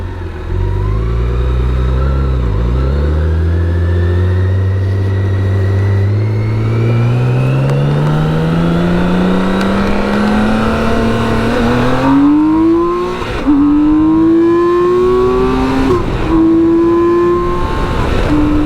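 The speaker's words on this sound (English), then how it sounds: "That's just one hell of a bike, and a massive big engine." A BMW K1600 GT motorcycle's large engine revs steadily upward, its pitch climbing in long sweeps with brief gear-shift dips, close and continuous throughout.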